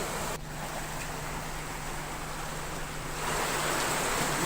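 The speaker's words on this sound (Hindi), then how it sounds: "आप देख सकते हैं कि मंदिर के बीच में से पानी निकल रहा है।" Floodwater pours through a hillside temple in Odisha during monsoon rains, a steady, loud broadband rush of flowing water that swells slightly toward the end, with no voices.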